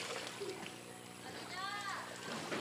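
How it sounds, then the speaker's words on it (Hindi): Bundles of jute fibre wrapped around the hands are slapped into water and pushed back and forth to wash them, giving repeated splashes and sloshing while people talk nearby. "हाथ में लपेटने के बाद इस तरह से पानी में मारते हो, आगे पीछे पुश करते हैं"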